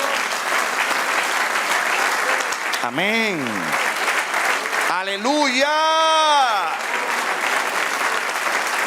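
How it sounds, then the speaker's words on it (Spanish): A church congregation claps for the Lord at a Spanish-language service, the steady applause running throughout while voices call out in singing tones over it, one brief rising phrase and then a longer sustained one. "Da un aplauso al Señor."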